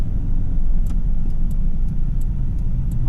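A Mitsubishi Delica van driving, with a steady close engine and road rumble from inside the cabin, broken by a few faint periodic ticks.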